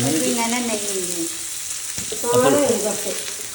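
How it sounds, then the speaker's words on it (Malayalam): Fish sizzling and crackling in hot oil in a home kitchen, a steady frying hiss with voices talking over it and a brief clatter midway. "മീൻ പൊരിക്കുന്നു"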